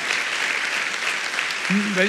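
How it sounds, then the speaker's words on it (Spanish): A congregation claps for a young man at a church sermon, a dense continuous patter heard close, with a voice breaking in near the end. "un aplauso fuerte a este joven"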